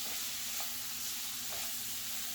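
Pre-cooked shrimp sizzle steadily in a hot cast iron pan, a continuous bright frying hiss with a faint stirring scrape, close and without talk.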